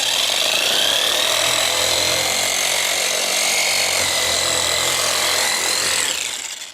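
A power sander running at maximum speed with 120 grit sandpaper against wood, a loud continuous high whine and abrasive rasp that holds steady before easing off at the end.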